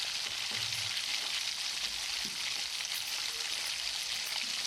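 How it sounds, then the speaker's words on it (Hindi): Chicken pieces frying in a pan with ginger powder, a steady, close hissing sizzle with faint spoon stirs and occasional pops throughout. "चिकन को हम थोड़ा भूनेंगे पहले"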